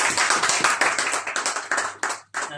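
A small audience claps for a speaker at a DXN products business presentation. It is a close, brisk round of hand claps in a quick uneven rhythm, with a short pause near the end before the clapping picks up again.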